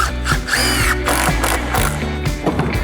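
A power drill drives 3-inch screws into a 2x6 cap, several short bursts of whirring and ratcheting bites in quick succession, close and fairly loud.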